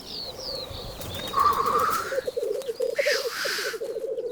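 Black grouse cocks fighting in the wild, giving a steady bubbling, cooing chorus of calls with sharper hisses and flutters breaking through, fairly close and continuous.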